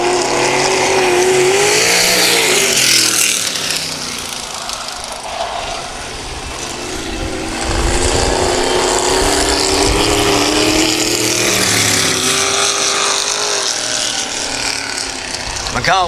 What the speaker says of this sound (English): McCall, Tatro, and Anderson, 3 remaining cars in this event.